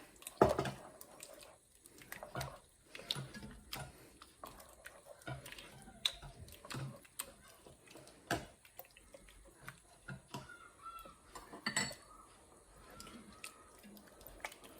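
A vegan chickpea and lentil curry with garam masala is stirred in a pot, giving soft, wet squelches and scattered light clicks at an irregular rhythm, fairly quiet and close, with no talking.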